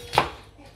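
A single sharp knife chop through food on a cutting board, one close crisp thud that fades quickly, preparing pieces for a gratin.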